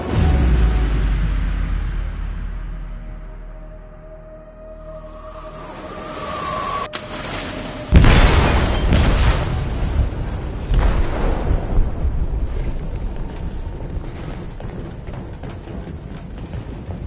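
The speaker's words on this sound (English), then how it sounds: "They detonated an explosive in the hold." An explosion deep in a ship's hold in Detroit: Become Human, a low rumbling swell that fades, then a sudden loud boom followed by a long churning roar of debris and groaning metal.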